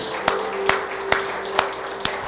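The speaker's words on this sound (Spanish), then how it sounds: "Denle un aplauso al Señor en este día." In a church, a few hands clap in a slow, steady beat, five sharp claps evenly spaced over a faint background hum.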